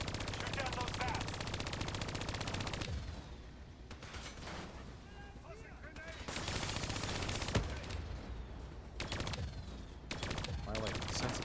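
Sustained automatic gunfire in the video game Call of Duty: Black Ops III, loud and close, in long rattling bursts with brief gaps, mixed with game effects and voices talking over it.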